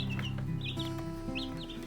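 Barred Rock chicks cluck and peep in soft, quick bursts, a few small calls close by over a low steady background hum.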